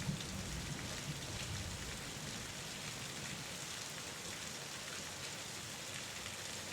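Steady rain falling, an even, continuous hiss with no pauses, fairly soft and heard alone without voices.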